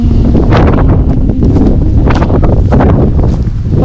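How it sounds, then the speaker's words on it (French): Strong, steady wind buffets the microphone at an abandoned coastal fort overlooking a harbour roadstead, a loud continuous roar with gusting swells and no voices. "il y a pas mal de vent"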